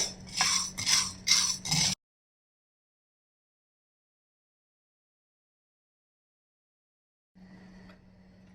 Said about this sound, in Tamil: போட்டு மீடியம் ஃப்ளேம்லேயே வச்சுட்டு நல்லா செவந்து வர வரைக்கும் நம்ம நல்லா வறுத்துப்போம்